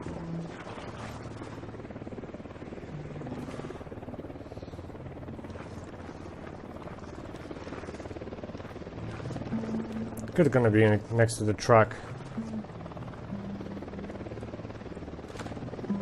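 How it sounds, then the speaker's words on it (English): A helicopter in Ghost Recon Wildlands passes overhead, a steady rotor drone that swells into a loud, close whirring sweep midway, with someone talking over the game sound. "Chopper incoming."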